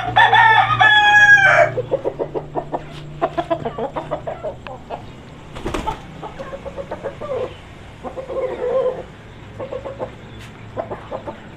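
An Aseel rooster crows loudly and close by in one long call, followed by rhythmic clucking and scattered fowl sounds nearby.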